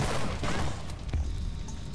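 Gunfire from a sci-fi shooter game, the Blight demo, a rapid burst of low booming shots cracking over a dense, noisy battle backdrop, fairly loud and sustained throughout.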